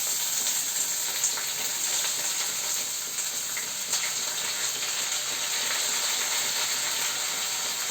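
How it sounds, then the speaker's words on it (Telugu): Sliced onions, green chillies and curry leaves fry in hot oil, giving a steady, close sizzle that carries on evenly throughout. "ఇప్పుడు మనం ఉల్లిపాయ, పచ్చిమిరపకాయ, అలాగే 2 కరివేపాకు రెమ్మల్ని ఆయిల్లో వేసుకుని బాగా"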